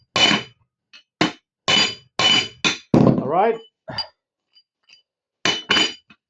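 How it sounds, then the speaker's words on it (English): A hammer strikes loading pins with sharp metallic clinks, around a dozen close, loud blows in an irregular rhythm, with one strike ringing on and a brief spoken word in between. "I'm hammering a couple more times."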